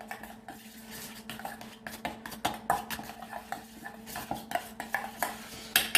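A spoon mixes an eggplant tower mixture in a bowl, giving repeated close clinks and scrapes of metal on dish in an uneven rhythm over a faint steady hum.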